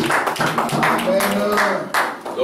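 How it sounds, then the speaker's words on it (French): A church congregation claps together during a French-language service. The clapping is mixed with voices and sounds brisk and uneven over roughly two and a half seconds. "Acclamation pour les Seigneurs."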